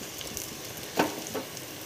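Eggplant slices topped with grated fresh coconut cook in a pan, giving a soft steady sizzle up close with a couple of brief scraping or stirring bumps.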